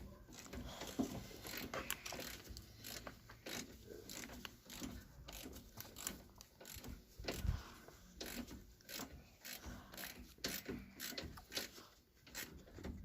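A ratchet from a Halfords Advanced socket set loosening a bolt on a Mk3 Escort estate, heard as a quiet, irregular run of clicking and rubbing mechanical strokes over the whole stretch, close and low in level with no talking.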